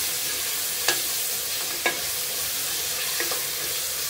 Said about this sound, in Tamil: நல்லா கலக்கி விட்டுக்கலாம்.